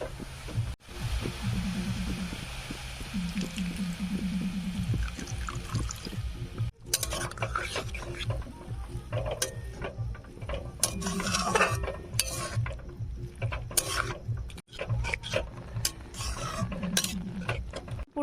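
Milk poured onto grated carrot lightly fried in ghee, then stirred with a spoon against the pot, giving liquid splashes followed by repeated scraping and clinking strokes, close and fairly quiet with no talk.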